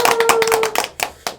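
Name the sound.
audience clapping to welcome teachers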